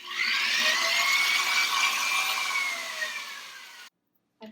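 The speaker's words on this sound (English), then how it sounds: "I pre-drilled a hole with a drill bit that's smaller than the diameter of the finishing nails" A power drill pre-drilling a small hole into wooden wall moulding at a stud, giving a steady high whine that rises and falls slightly for about four seconds, then cuts off with a brief click.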